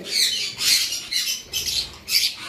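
A pair of personata lovebirds squawk in repeated harsh bursts, about five loud close calls in quick succession with short gaps between them.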